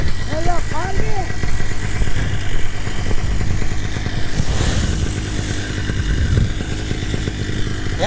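A paramotor engine runs steadily nearby with a buzzing, clattering drone, while people talk over it.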